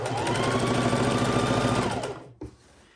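A sewing machine stitches quilt pieces in one steady, fast whirring run of about two seconds, then stops with a brief mechanical clunk.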